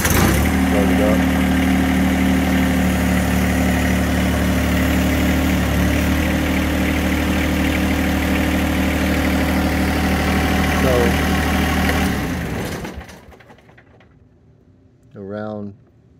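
The engine of a hydraulic loader starts and settles into a steady, loud, close idle. It rumbles evenly for about twelve seconds, then cuts out, followed by a brief sound near the end.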